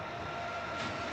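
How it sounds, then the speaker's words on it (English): BNSF freight train passing trackside, a steady broadband rumble and roar with a faint sustained tonal whine, continuous throughout this short moment. "Train."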